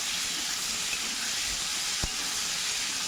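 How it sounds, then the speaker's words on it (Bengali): Potatoes seasoned with salt and turmeric fry in a pan, giving a steady, even sizzling hiss that holds throughout, with one brief soft clink partway through. "এবার আমি ভাজা করে নেবো, কালারটা ভালো হবে আর ভাজা আলুগুলোর মধ্যে নুনটা বসে যাবে"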